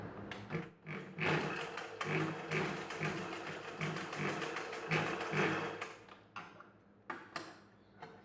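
A sewing machine runs steadily, stitching a folded edge on a back-open hook blouse, its needle clatter whirring close and continuous before slowing and stopping near the end, then a few brief bursts.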